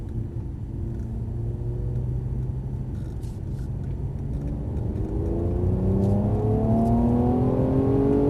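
A Mercedes-Benz car accelerates on a driving track, its engine rumble steadily climbing in pitch and growing louder as the revs build, with no voices over it.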